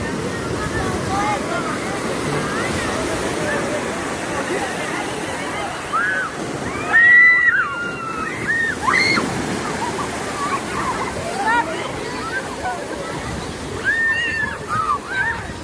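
Ocean waves surge and wash ashore at Los Cocos beach under a hurricane alert, a steady loud roar of surf throughout, with a crowd of voices and a few shouts rising over it midway and near the end.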